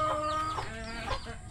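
A chicken clucking nearby, a few throaty repeated clucks over a constant background hum.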